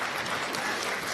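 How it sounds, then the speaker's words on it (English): Audience applause at a Take Your Child to Work Day event with Secretary Kerry, a steady wash of clapping from a crowd, brief and even throughout. "And you should applaud them, because they are heroes."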